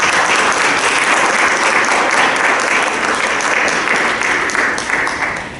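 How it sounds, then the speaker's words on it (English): A crowd at an education panel event gives loud, sustained applause, a dense continuous wash of clapping that holds steady and tapers slightly at the end. "So please give it a round of applause"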